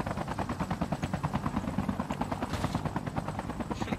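Helicopter flying in Call of Duty Mobile, its rotor thumping in a fast, steady rhythm, loud and close throughout with no talk.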